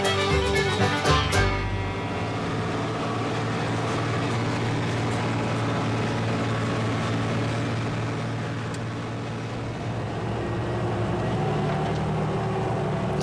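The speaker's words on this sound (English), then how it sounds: "The silage wagon and tractor leaves the farmyard, heading down the country road" A tractor pulls a silage wagon out of a farmyard onto a country road, its engine a steady low rumble that fades slightly midway, then holds at moderate distance.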